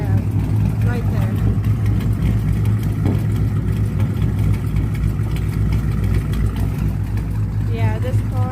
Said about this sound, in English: this car is misfiring